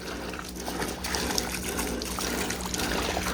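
Water flows under pressure into a pigeon pond, a steady close trickle and splash that keeps on without pause.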